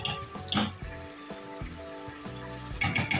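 Chicken with ginger garlic paste sizzling in oil in a pan for a Shenwari karahi, a steady fry hiss with utensils clinking and scraping against the pan now and then.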